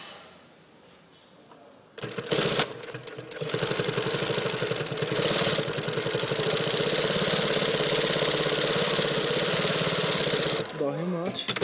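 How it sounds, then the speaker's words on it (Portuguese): A Sansei SA-M8750 twin-needle alternating sewing machine stitches in a steady, close, loud mechanical rattle for about nine seconds, starting and stopping abruptly, with faint room noise before and after. "Então, fazer mais uma outra costura."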